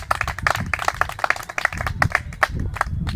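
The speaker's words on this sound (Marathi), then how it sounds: "जोरदार टाळ्या वाजून करू आपण." Group clapping at a morning gathering of a green juice club, welcoming new members: dense, irregular hand claps from many people at once, steady and fairly loud throughout, with no talk.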